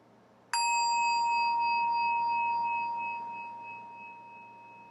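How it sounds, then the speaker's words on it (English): A single meditation bell is struck once, ringing out with a clear, bright tone that lingers and slowly fades over several seconds. "And we'll begin with the sound of the bell."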